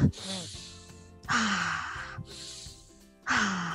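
A person taking deep breaths in, three loud close inhalations separated by pauses, with breathy voiced sounds between them.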